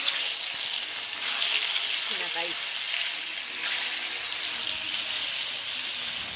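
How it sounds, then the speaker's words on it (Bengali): Fish rubbed with salt and turmeric sizzles in a pan, a loud, steady hiss that runs throughout, with a brief faint voice partway through. "নুন হলুদ মাখানো মাছ ভেজে নিই একটু।"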